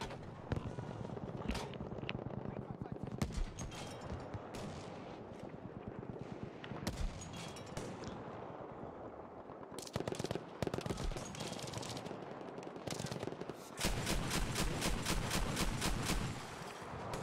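A World War II-era anti-aircraft gun fires in Battlefield V during the battle of Narvik, loud and close, with dense rapid bursts of heavy automatic fire and distant explosions running throughout without pause.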